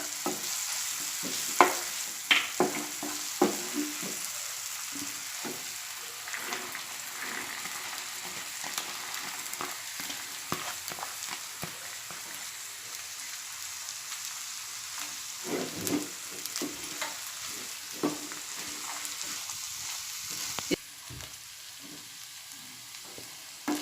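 Sprouted moong roasting in a pan with turmeric and spices, giving a soft continuous sizzle with frequent scraping and stirring clicks, close but moderately quiet, and no voices.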